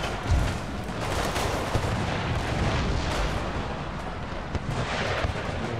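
Dense, continuous booming of cannon and gunfire in the video game Empire: Total War, loud and close, with overlapping blasts and crackling volleys filling the whole stretch.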